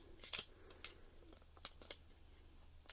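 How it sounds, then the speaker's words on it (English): Scissors snip through tape on an upcycled holiday card: several crisp, close cuts in an irregular rhythm, with quiet pauses between them. "I'm just going to cut it."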